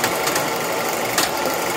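A bench grinder spinning up in a forge workshop to clean welding rods, a steady mechanical whir with a couple of brief louder surges, close and continuous.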